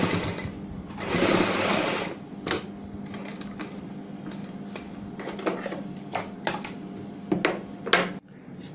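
A sewing machine stitches the centre point of blouse back neck pieces in bursts, with a louder run near the start and shorter runs and clicks of handling after, close and alone.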